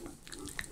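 A Pekingese dog gnaws on fresh rib bones with a little meat on them, giving close, quiet crunching and biting clicks in a short, irregular burst.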